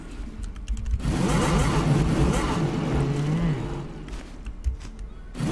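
A motorcycle mount in the MapleStory 2 game revs its engine in a steady, loud drone with a rising and falling pitch, holding for several seconds before easing off.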